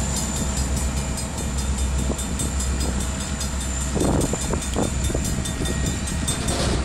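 A Canadian National freight train led by locomotive 9621 rolls in reverse through Effingham, Illinois, giving a loud, continuous rumble with wind noise and a few clanks, and no talking.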